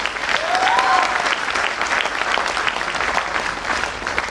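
Loud, enthusiastic applause from a crowd at a motivational business gathering, dense steady clapping with a brief whistle or cheer early on.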